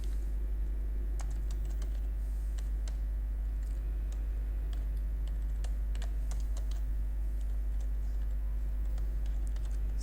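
Someone types HTML code on a computer keyboard, with irregular quick clusters of key clicks close by over a steady low hum.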